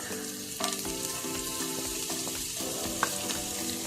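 Chopped garlic and ginger sizzling in hot oil in a pan, a steady, close frying hiss with a few soft stirring clinks, no voices.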